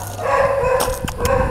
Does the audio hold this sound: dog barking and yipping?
yes